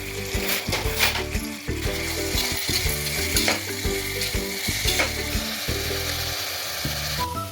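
Onions frying with salt in a pan, a continuous sizzle broken by rhythmic scraping and clacking as they are stirred, close and fairly loud.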